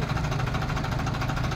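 Two tractors, a Mahindra 585 and a Farmtrac 45, idling before a tug-of-war contest, a loud steady diesel chug with rapid even knocking pulses and close, constant rumble.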